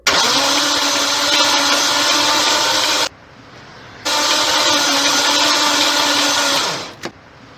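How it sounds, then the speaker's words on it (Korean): A car engine, started normally with under three seconds of cranking, runs steadily with a loud broadband roar, cuts out abruptly, then starts again and runs before winding down and stopping. "지금부터는 3초 이내에 시동 걸리는 소리를 들으시겠습니다."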